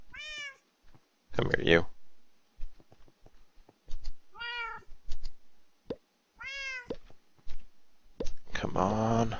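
Repeated meows from a cat, several separate calls spaced a couple of seconds apart, close and clear, with a person speaking between them and some clicks and thumps.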